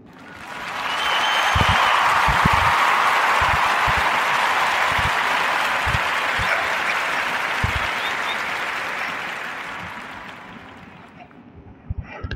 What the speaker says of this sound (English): Let's clap it up for them brothers.